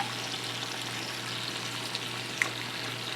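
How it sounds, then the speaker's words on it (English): Hamburger patties of 80% lean beef fry with potatoes and onions in a pan, giving a steady, even sizzle with a couple of small pops, quiet and close, with no talking. "our potatoes and hamburger patties, onions, they're all cooking up very nicely"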